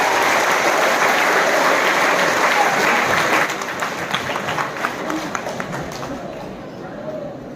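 Loud, dense audience applause fills a hall at a government arts college celebration in Cheyyar marking Anna's 117th birth anniversary, steady at first, then easing to softer scattered clapping.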